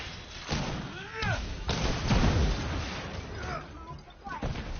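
Enemy gunfire in the Marvel's Avengers video game, made up of repeated heavy thuds and bursts with some whooshing energy sweeps, fairly loud and dense throughout.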